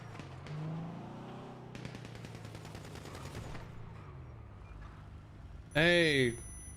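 Gunfire in the GTA V NoPixel roleplay game, a quick rattling burst of shots near the middle and one loud, sharp blast near the end, over low engine hum and game ambience.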